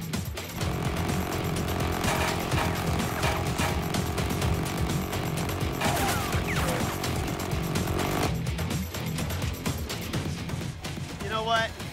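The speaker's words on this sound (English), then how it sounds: "Now it's Trey's turn with the minigun." A minigun firing at a range lets out a continuous, loud, ripping buzz, an unbroken mechanical roar that runs for about eight seconds before abruptly cutting off, followed by quieter rattling and a faint tonal whine.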